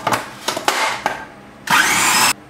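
A kitchen blender chops capers, black olives and bread into crumbs, first in a few short pulses and then in one loud, steady whirring burst close by.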